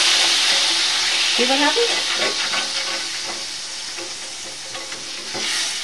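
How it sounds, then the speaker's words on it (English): Chicken piccata pan sauce sizzles and bubbles steadily in a hot pan after liquid is added, a dense continuous hiss with a few stirring scrapes, while a voice speaks briefly over it. "Now I'm going to let it cook a little bit, just bubble away a little bit."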